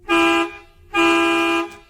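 Two long, loud blasts of a truck horn sounding at night on a road, each lasting about half a second with a short gap between, steady and harmonic, with no other sound around them.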